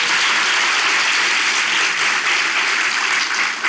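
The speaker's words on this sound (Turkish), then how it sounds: "Kocaman alkış." A studio audience and guests give a big round of applause on a Turkish relationship-quiz talk show, dense steady clapping filling the whole stretch at full loudness with no talk over it.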